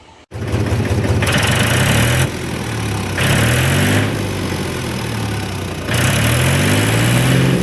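A Mahindra 275 DI tractor engine chugs steadily at idle nearby, its low rumble rising and falling slightly in a few stretches, with no talking.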